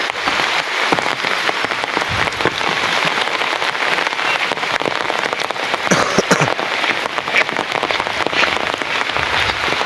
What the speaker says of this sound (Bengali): বৃষ্টি কিন্তু কঠিন আকৃতির বৃষ্টি হইতেছে